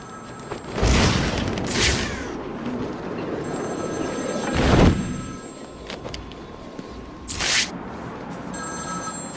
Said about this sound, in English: Answer my phone and answer it quick